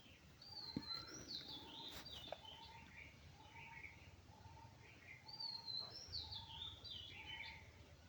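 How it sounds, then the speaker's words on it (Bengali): Several birds chirp and whistle outdoors on a morning in a rural village, repeated short calls in a loose rhythm over a quiet hum of ambience. "তো পাখির এই কিচিরমিচির ডাকগুলো অসম্ভব ভালো লাগে।"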